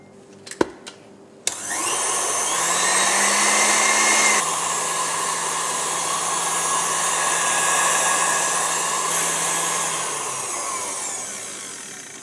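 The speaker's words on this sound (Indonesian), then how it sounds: "Kemudian ini kita kocok bareng hingga dia stiff peak." An electric mixer whips mascarpone and whipping cream for tiramisu, starting after a few clicks into a loud, continuous whirring motor drone that holds steady for about ten seconds and then eases, with no talk.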